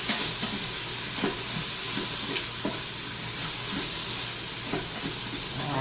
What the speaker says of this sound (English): let me give my carrots and onions a stir